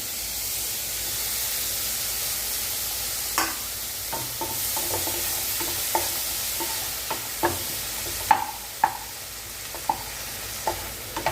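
Tomatoes and coriander sautéing with onions for potato masala, a steady soft sizzle in the pan broken by occasional scrapes and taps of a stirring spoon, no talking.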